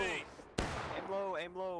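A single sharp musket volley cracks out in the Civil War video game War of Rights, a loud sudden blast amid shouting voices before and after.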